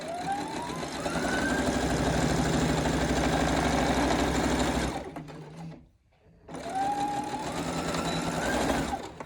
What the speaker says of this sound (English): So I've got myself set up at the sewing machine